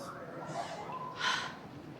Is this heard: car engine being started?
no